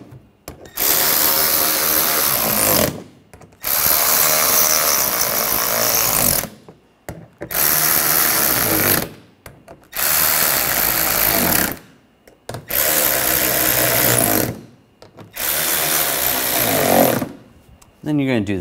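Power drill driving screws into the front parking assist sensors of a 2013-2019 Ford Escape, about six loud whirring bursts of two to three seconds each, with short pauses between them.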